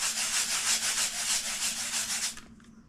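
Close, loud rubbing of a block with a cloth to build static charge, in rapid rhythmic strokes of steady friction for over two seconds before stopping abruptly.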